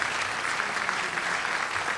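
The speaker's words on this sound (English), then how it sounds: "so let's give them a round of applause." An audience at a community meeting applauds, a steady, dense wash of many hands clapping together without a break.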